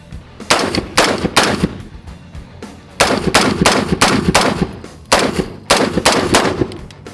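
A Dark Storm Industries Variant 1 rifle fires outdoors in Arizona in three loud, rapid bursts of several shots each, separated by short pauses, with no talk.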